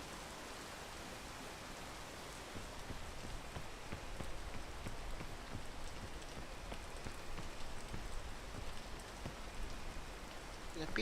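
Steady rain falls in the video game PEAK, a dense even hiss of drops on surfaces that rises slightly partway through. It is quiet overall, with no clear talk.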